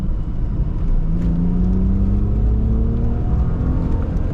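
A 1990s BMW Z3 coupé, top speed 230 km/h, accelerates hard with a steady, close engine roar that climbs smoothly in pitch and holds loud throughout.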